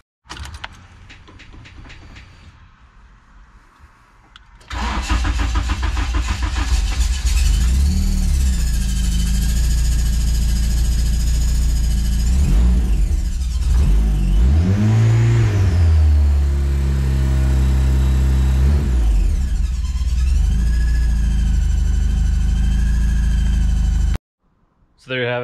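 A turbocharged, K-series-swapped Mazda Miata cranks over after a few quiet seconds and fires up loudly. It roars and revs unevenly for about twenty seconds, cuts off abruptly, then briefly catches again.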